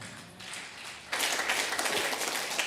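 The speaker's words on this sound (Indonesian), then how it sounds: "Tepuk tangan" A worship-night congregation bursts into applause after a quieter start, sustained clapping filling the room.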